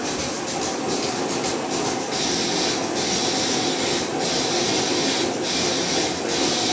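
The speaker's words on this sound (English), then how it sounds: "That's the jet right there." A jet aircraft roars overhead during a blizzard, a loud, steady, broadband rushing drone lasting the whole stretch with slight surges.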